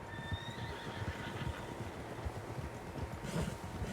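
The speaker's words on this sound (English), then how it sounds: "Horses, quite a few of them." Horses neighing in Red Dead Redemption II, a shrill whinny rising over steady hoof clip-clop and faint outdoor wind, the herd sounding moderately close and continuous.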